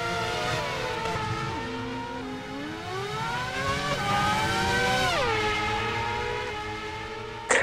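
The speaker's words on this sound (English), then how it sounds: "we see a few drivers making their practice starts now." Race car engines rev and climb through the gears as drivers make practice starts during a warm-up session, several loud overlapping engine notes rising and falling, with a sharp burst at the very end.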